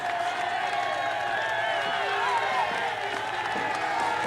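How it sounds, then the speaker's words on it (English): A roadside crowd, mostly Belgian, cheering Tour de France riders on Stage 18 from Bourg-d'Oisans to Saint-Étienne: a dense continuous wash of cheering, whoops and clapping at a steady level, with a voice talking over it. "as the crowd cheer the boys on, mostly Belgian it seems here"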